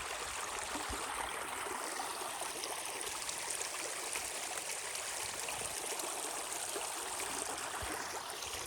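A steady, continuous wash of flowing stream water runs through the woods on a homestead property, a soft close rushing and trickling that holds constant throughout with no voices.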